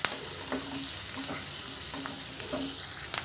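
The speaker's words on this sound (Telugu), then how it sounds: "కొద్దిగా వేడి మనం కట్ చేసి పెట్టుకున్న బీట్రూట్ ముక్కలు వేసుకున్నాము" Beetroot pieces and curry leaves frying in a pan give a constant close hiss of hot oil, broken by a few soft stirring scrapes, with no one speaking.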